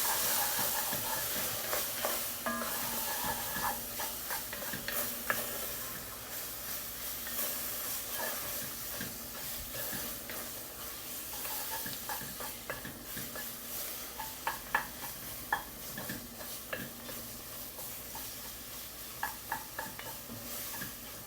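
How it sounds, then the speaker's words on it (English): Vegetables sautéing over a low flame in a pan for Cajun shrimp creole, a steady soft sizzle with scattered stirring clicks and scrapes throughout, fairly quiet and without talk. "These will saute for about 5 minutes."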